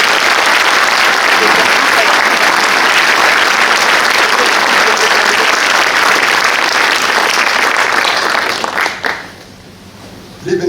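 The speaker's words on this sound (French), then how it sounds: "Les bénévoles méritent en effet vos applaudissements" Sustained, loud audience applause for volunteers at a mayor's New Year address in a French town, dense clapping filling the hall for about nine seconds before stopping abruptly, with a brief burst at the very end.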